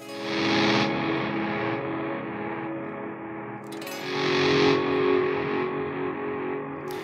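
Distorted guitar tones from a pedalboard wash through heavy delay and reverb, swelling and fading in repeating echoes as the expression pedal sweeps, with no voices.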